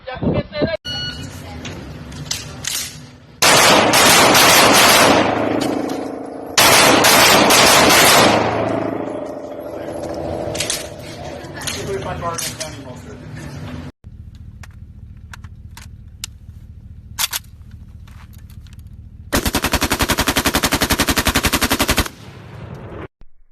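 Loud bursts of rapid-fire shots from training guns, several long harsh volleys separated by quieter stretches with talking voices and background noise.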